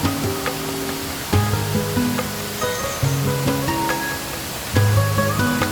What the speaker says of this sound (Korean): 18m의 마리폭포도 시원스레 떨어집니다